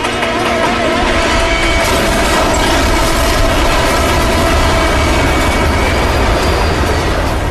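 A train rumbles along the tracks through a crowded city at rush hour, a loud, continuous low roar with a mechanical drone and rattling that stays steady throughout.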